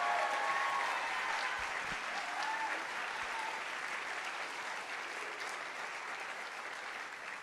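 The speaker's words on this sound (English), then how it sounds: "So, huge round of applause for Pierce and Mia" An audience at a youth TEDx event gives sustained applause, a broad, even roar of clapping from a full room that gradually tapers over several seconds, with no talk over it.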